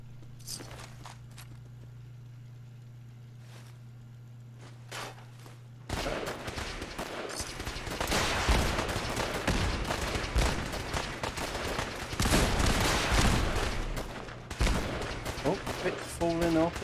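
Turrets open fire in Fallout 4, Horizon mod Desolation Mode: after a quiet humming stretch, rapid bursts of gunfire erupt and keep clattering with footsteps-like thuds, loud and continuous through the rest.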